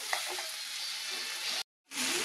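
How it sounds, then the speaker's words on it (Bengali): A spice paste mixed with a little water is stir-fried in a pan before fish goes in, giving a steady soft sizzle that cuts out briefly near the end and then resumes. "তাহলে মশলাটা একটু কষিয়ে নিই"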